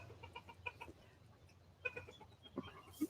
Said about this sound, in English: so there's the chicken house